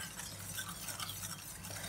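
Pastry cream ingredients are stirred together with two large spoonfuls of sugar, giving a faint, steady scraping and swishing that runs continuously without a break.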